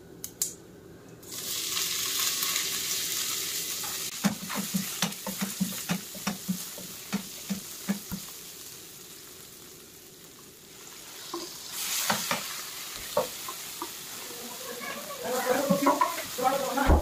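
Whole spices, including black cardamom, three cloves, two cinnamon sticks and cumin, fry in oil with a low sizzle and repeated spoon stirring taps, while someone talks over it.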